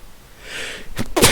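A short intake of breath builds into a single sharp, close sneeze at the very end.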